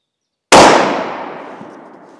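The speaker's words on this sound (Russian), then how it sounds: "Ну, смотрим. Гонг, маленький гонг." Rifle shot striking a small metal gong target at a shooting range: one sharp loud crack with a ringing decay trailing off over more than a second, heard alone.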